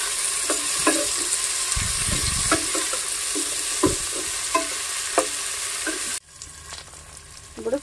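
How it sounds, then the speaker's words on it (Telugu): Tomato and fresh green peas being stirred into roasted peanut pulao frying in a pan: steady close sizzle with repeated scraping stir strokes, stopping abruptly near the end. "టమాటా, బఠానీ, పచ్చి బఠానీ వేసి మొత్తం కలిసే విధంగా కలుపుకోవాలి"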